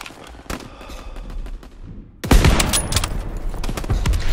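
Gunfire in Call of Duty: World War II, scattered distant shots at first, then a sudden loud burst of sustained automatic fire with sharp cracks up close.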